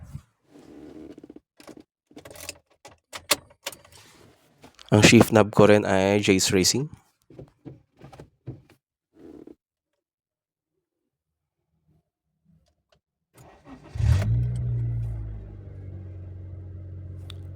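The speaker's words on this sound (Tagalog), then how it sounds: "Ngayon, start naman natin ang makina." Someone talks, then after a pause a remapped car engine cranks and catches on a cold start, settling into a steady low idle rumble.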